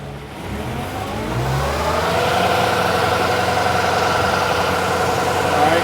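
A New Holland TL-90 turbocharged diesel tractor engine cranks and settles into a loud, steady running drone that rises slightly and holds, with a dense mechanical rumble and whine, close and continuous.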